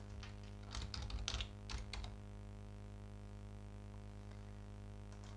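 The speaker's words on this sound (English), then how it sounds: "Type in a different account number." Quick bursts of key presses on a computer keyboard as an account number is entered in financial administration software, close and clear for about two seconds, then only a steady electrical hum remains.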